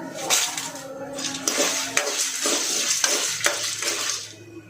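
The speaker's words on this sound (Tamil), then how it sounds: "ஓகே, கடலை பருப்பு வறுந்துட்டு ஒரு 10 காஞ்ச மிளகா போடுறேன்." Dried red chillies, about ten, tossed into chana dal roasting in a pan: a busy run of dry clattering and scraping as the spoon stirs, with sharp metallic clicks against the pan, continuous and close.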